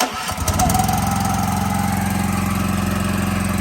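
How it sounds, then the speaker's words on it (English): A gas-powered roof cleaning pump engine on a wash truck sputters to life and settles into a steady, loud, close running drone that holds for several seconds. "I wanted to show you how I can start my gas powered roof pump on and off."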